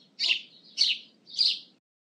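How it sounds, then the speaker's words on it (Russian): A sparrow gives three short, bright chirps at a steady, evenly spaced rhythm. The calls are close and clear against silence. "Воробей."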